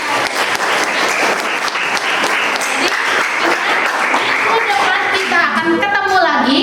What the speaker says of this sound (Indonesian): Kita berikan tepuk tangan untuk kelas ini ya.